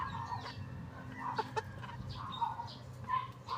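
Dome Sweater and Gilmore gamefowl in a shared cage give repeated short clucks and soft calls at an uneven rhythm, close by, over a low steady background hum.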